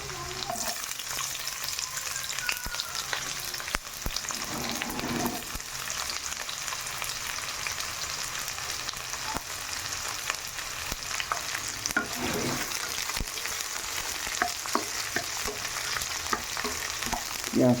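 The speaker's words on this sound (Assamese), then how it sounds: "পিঁয়াজটো অলপ ভাজি ল'ম মই।" Chopped onions sizzle steadily in hot oil in a pan for a sour fish curry, with occasional scraping stirs cutting through the continuous close frying hiss; no voices.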